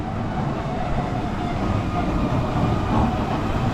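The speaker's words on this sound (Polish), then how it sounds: "Żona mnie porywa taką kolejką, jedziemy na dół." A small train or cable railway runs in Anacapri on Capri, making a continuous rumbling, rattling roar of wheels and carriage, steady and fairly loud throughout with no clear voices.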